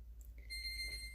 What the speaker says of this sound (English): I'll bring you back as soon as the timer beeps.